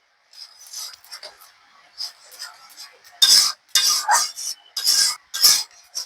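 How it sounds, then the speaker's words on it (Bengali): A spoon scrapes through taro flowers mixed with soaked tamarind, green chilies and small shrimp in a pan, in short, loud, rasping bursts of metal on metal with brief pauses between strokes. "এখন আমি কচুর ফুলের সঙ্গে মিশিয়ে নেব"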